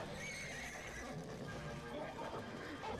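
Horse in a film scene whinnying over clip-clopping hooves, faint under a busy soundtrack and steady background noise, with no speech over it.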